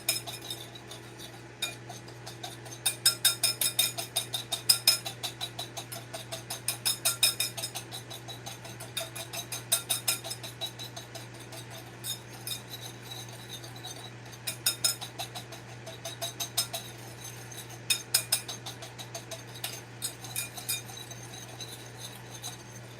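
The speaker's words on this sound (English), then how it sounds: "And I'll whisk it all together to mix it up good." Soufflé ingredients being whisked in a bowl, a steady run of quick metallic clinks and scrapes against the bowl in rhythmic bursts, close up and fairly quiet over a low constant hum.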